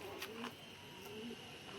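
A female racing pigeon, a tournament bird, coos softly in short low phrases close by over a steady background hiss, with no talk.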